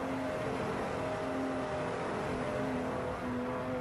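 Race car engine in a sim racing video game at the Spa circuit, a steady sustained drone with strong harmonic bands holding near-constant pitch at high revs, loud and continuous with a slight dip near the end.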